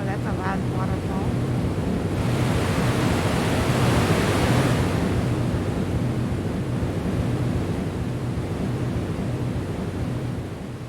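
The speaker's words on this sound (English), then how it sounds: "Wow, that's a loud waterfall." A loud waterfall in the game Ghost on the Shore pours continuously, a thick, even roar that swells briefly early on and then holds steady for about eleven seconds.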